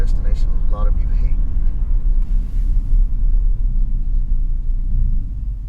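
A car pulling up to a destination on a road trip, its engine and road noise making a loud, steady low rumble throughout, with people talking over it at the start.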